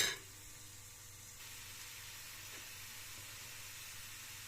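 Apples sizzling softly in a pan over low heat as they release moisture for a caramelized pancake filling, a faint steady hiss after a brief initial clatter.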